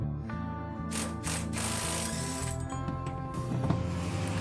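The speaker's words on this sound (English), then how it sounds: "next we're gonna take our impact, a 1 5/16. We're gonna remove the big bolt from the pitman arm right here." Air impact wrench with a 1 5/16 socket working on the large pitman arm bolt of a 1970s–90s Ford steering gear, a steady close mechanical hammering rattle running continuously throughout.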